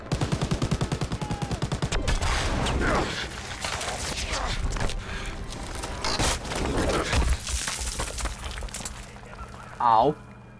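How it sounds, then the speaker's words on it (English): Gunfire in a Call of Duty: WWII battle, with loud bursts and rattling shots aimed at a tower, layered with battle noise, footsteps and voices talking throughout, plus a short sharp burst near the end. "Shit, they're shooting the tower."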